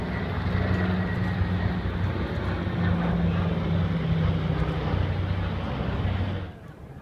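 A PBY Catalina flies past at a beach airshow in Virginia Beach, its piston engines producing a loud, sustained droning rumble that holds steady and then drops away near the end.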